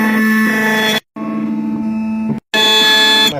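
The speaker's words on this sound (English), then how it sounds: "Now that I have the key blank in, I'm up here and hit cut. And it runs through its process." A key cutting machine grinds a blank for a truck key, giving a loud, steady whining buzz that cuts out briefly twice as the cutter runs through its cycle.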